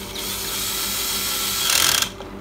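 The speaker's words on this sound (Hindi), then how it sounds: "अब मैं इधर ऑयल जाने का बोल्ट जो है वो डाल के टाइट करूँगा।" A power tool drives home the oil bolt on a Suzuki Access scooter gearbox, a continuous close whirring that rises briefly near the end before stopping.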